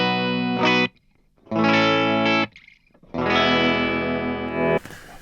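An electric guitar through a Crowther Audio Hotcake overdrive pedal rings out in three sustained chords with short silences between them. It sounds loud, close and gritty, with a Vox-like overdriven grit.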